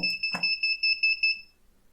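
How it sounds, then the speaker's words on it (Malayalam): A programmed buzzer on a PictoBlox robotics project sounds a rapid string of short, shrill electronic pulses for about a second and a half, then stops and leaves near silence. "ഇപ്പോൾ രണ്ട് ബീപ്പുകൾക്കിടയിലുള്ള സമയവ്യത്യാസം ഒരു സെക്കൻഡായി മാറുന്നു"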